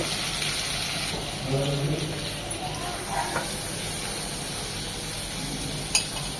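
Prawns fry in oil in a pan for a garlic butter recipe, a soft continuous sizzle at moderate distance with a few faint clinks and a sharper tap near the end.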